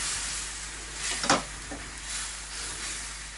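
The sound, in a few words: drumsticks poured into frying spice paste, sizzling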